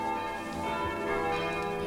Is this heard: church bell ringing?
yes